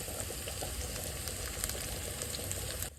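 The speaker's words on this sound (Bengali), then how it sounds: "পেঁয়াজগুলো কিন্তু ভাজা করছি লাল লাল করে" Onions frying in a pan, browning for a chicken dish, with a dense, steady sizzle and crackle close by, continuous for a few seconds before a brief dip at the very end.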